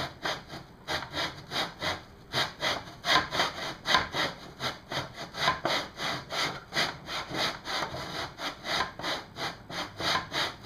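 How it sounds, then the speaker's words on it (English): A hand saw cuts through quarter-inch wood to trim the tips of toy swords, steady rhythmic back-and-forth rasping strokes, close and fairly loud, with no talking. "And we are cutting off the tips so that they have the little panto edge like that."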